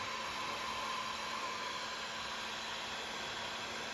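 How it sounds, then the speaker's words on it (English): A steady, loud blowing roar of a heat gun pushing hot air onto shrink wrap, constant and unbroken throughout with a faint whine on top. "I happen to have a heat gun."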